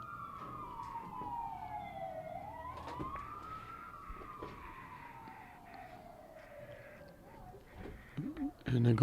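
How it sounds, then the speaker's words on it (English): A fire truck siren wails past near a girls' high school soccer game, one long falling and rising sweep that slowly fades, with faint voices and crowd noise underneath. "That is a fire truck you hear flying by."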